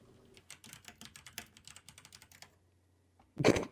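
Rapid clicky typing on a computer keyboard, a steady run of close, crisp keystrokes that stops for about a second, then one loud burst at the end.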